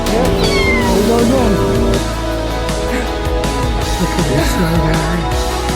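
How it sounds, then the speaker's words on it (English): Kittens found among trash by a garbage truck driver meow repeatedly. Their high, wavering cries are close and loud, and several overlap with one another throughout. "The driver of the garbage truck discovered kittens among the trash and got them out."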